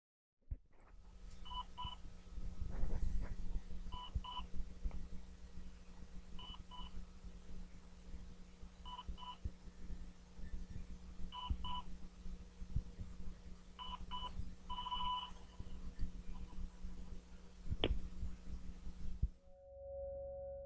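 A recorded phone call: repeated paired dialing tones in an even rhythm over a steady hum, with a few sharp clicks, lasting about twenty seconds before a final tone.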